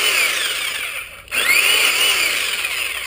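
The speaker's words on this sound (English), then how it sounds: "here's a review of the Black & Decker Alligator chainsaw, electric chainsaw." A loud Black & Decker Alligator electric chainsaw whines at high speed while cutting a branch, dropping out briefly for a moment before revving back up and continuing to buzz.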